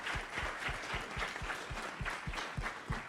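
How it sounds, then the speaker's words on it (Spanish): An audience applauds the women panelists at a conversation on Indigenous women in the media, a steady patter of many hands clapping at moderate distance for about three seconds. "Yo les pido un fuerte aplauso para nuestras compañeras que están aquí presentes."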